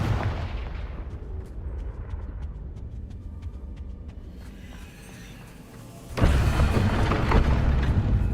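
Repeated Confringo fire-spell explosions in the video game Hogwarts Legacy. A series of sharp booms and crackling bursts sounds over a rumbling backdrop, and a louder, denser blast swells near the end.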